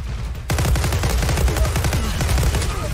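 Rapid automatic gunfire from the Zula shooter game bursts in after a moment of quiet and then rattles on steadily and loudly in close, dense repeated shots.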